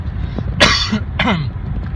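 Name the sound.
cough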